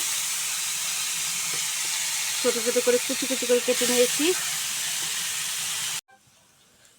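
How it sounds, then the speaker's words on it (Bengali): Finely chopped potatoes fry crisp in hot oil, giving a steady, close hiss and sizzle that runs under a voice speaking, then cuts off abruptly near the end. "এই যে মশমশা করে আলু ভাজি করে নিলাম"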